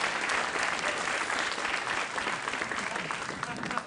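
Studio audience at a late-night talk show breaks into sustained, dense applause, a steady even roar of many hands clapping for nearly four seconds with no talking over it.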